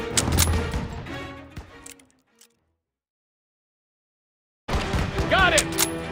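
Gunfire in the World War II shooter Call of Duty WW2, loud overlapping bursts that cut out into silence for about two seconds before heavy firing and battle noise return, with voices shouting over the combat.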